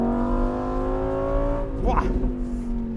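A Lamborghini Huracan Evo RWD Spyder accelerates hard, its engine note climbing steadily as a loud, close roar with a brief rasping break midway, like a gear change, before the pitch rises again.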